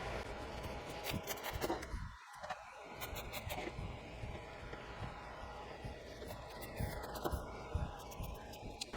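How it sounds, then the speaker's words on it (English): Knife cutting up red cabbage for pickling, with a run of crisp slicing crunches and soft rubbing sounds close by at a low level. "I have a lot of cabbages, so I'm going to get them cut up and into this bowl"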